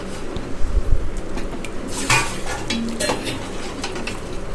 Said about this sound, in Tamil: நல்லா கிளறி விட்டுகிட்டே இருக்கணும்